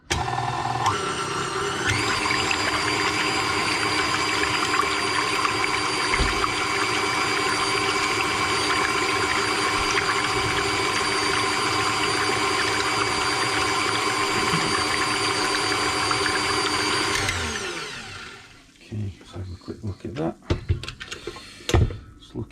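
A stand mixer churns sourdough pizza dough at 70% hydration, a steady loud mechanical whir with a grinding hum that runs unbroken for about eighteen seconds, then stops, leaving scattered clatter and handling noises.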